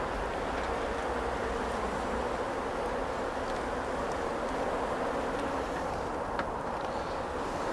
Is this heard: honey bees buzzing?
yes